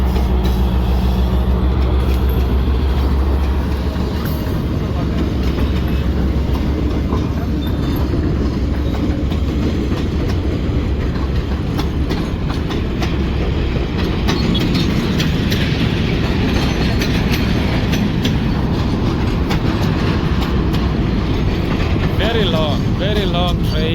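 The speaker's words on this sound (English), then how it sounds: "Yeah, this is a cargo train." Loud, steady rumble and rhythmic clatter of a long cargo train rolling past close by in Kenya, continuing without a break, with faint squeals of wheels.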